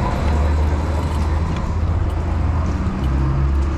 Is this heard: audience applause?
no